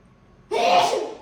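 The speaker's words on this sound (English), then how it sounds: "I gotta sneeze." One sudden, loud sneeze bursts out close to the microphone after a moment of near silence, then quickly fades.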